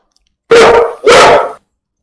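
A dog gives two loud, close barks in quick succession, each about a third of a second long, with silence around them and no talk.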